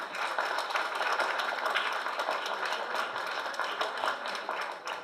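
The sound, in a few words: audience applause at community meeting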